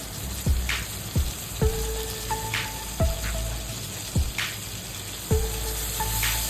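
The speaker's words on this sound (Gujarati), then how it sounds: "હવે આદુ લસણની પેસ્ટ અને ડુંગળી આપણે સાતળી લઈ બરાબર કલર ચેન્જ થાય ત્યાં સુધી" Grated onion and ginger-garlic paste sauté in hot oil in a pan for a Kathiyawadi green chori curry, giving a steady sizzle broken by sharp spoon knocks and scraping strokes at irregular intervals.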